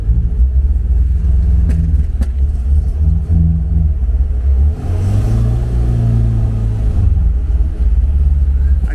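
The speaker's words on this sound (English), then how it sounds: "The engine will not pick up revs." A classic MGB engine runs close by with a low, uneven rumble, revs rising and sagging as it struggles to hold them, as if from a vacuum leak.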